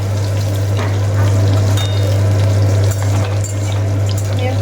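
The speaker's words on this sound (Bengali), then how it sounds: "রান্না করছি একটু আলু দিয়ে করছি" Potatoes fry in a pan, sending up a loud, steady sizzle close by, with a constant low electrical hum underneath and faint stirring noises.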